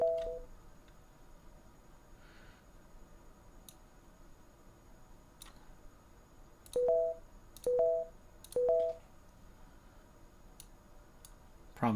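Short synthesized energy sound effect for a sci-fi video game, three quick tonal chimes in a row with a reverb tail, each a brief bright ding, heard alone over faint background hum.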